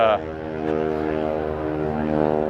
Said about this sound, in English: I think he said Beechcraft are taking off right now